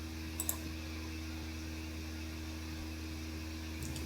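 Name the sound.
computer mouse click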